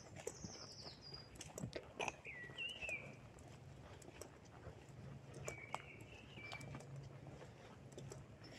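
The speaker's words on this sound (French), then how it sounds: "Puis on entend le chant des oiseaux." Birds sing on a plateau walk, with several clear whistled phrases and chirps at moderate distance over soft footsteps and faint outdoor background.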